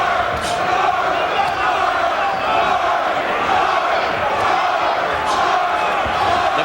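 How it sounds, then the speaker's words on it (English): Boxing arena crowd chanting at a Michael Moorer vs Mike Evans fight, a loud, dense, continuous roar of many voices filling the hall with rhythmic shouting. "The crowd is chanting, George, George, George."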